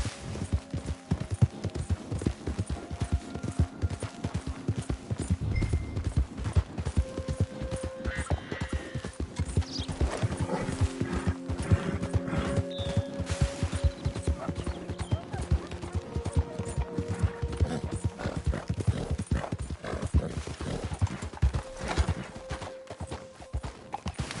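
Steady clip-clop of a horse's hooves at a gallop in Red Dead Redemption 2, a continuous rhythmic pounding that runs the whole stretch, with occasional tonal game sounds layered above.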